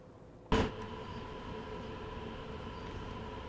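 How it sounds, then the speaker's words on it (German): An oncoming train in the Train Sim World 2 railway simulator, on the Ruhr-Sieg-Nord line, passes with a sudden loud rush, then settles into a steady, moderate rolling rumble. "kommt jetzt schon wieder ein Zug aus der Richtung"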